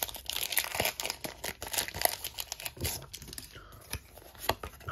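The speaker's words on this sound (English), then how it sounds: "Pokémon opening of two packs of Stellar Crown" Booster packs of Pokémon Stellar Crown trading cards are torn open up close, with dense crinkling and ripping of foil wrappers in quick bursts and no talking.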